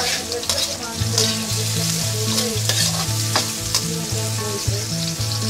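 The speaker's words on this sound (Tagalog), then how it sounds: "Pre-boiled na ang ating pork, kaya madali na lang ang paggigisa rito. Stir fry lang natin siya." Pre-boiled pork being stir-fried in a pan, with steady sizzling and repeated scraping stir strokes in an even rhythm, close and fairly loud, no voices.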